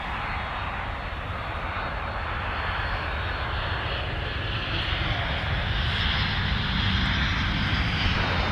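An airliner takes off from runway 12 left at MSP airport, its engines producing a loud, steady, broadband roar that holds throughout and swells slightly toward the end.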